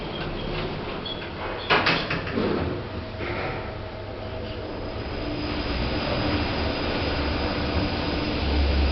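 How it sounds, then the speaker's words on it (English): Otis lift doors sliding shut, a couple of sharp clunks early followed by a steady mechanical rumble and hum of the car, fairly close, without talk. "Stand clear, door closing."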